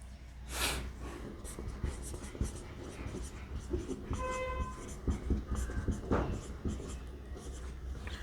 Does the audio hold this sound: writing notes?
yes